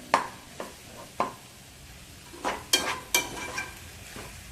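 Egg and vegetables fry quietly in a pan while a spatula stirs and scrapes in short irregular strokes, with a soft sizzle between them and no talk.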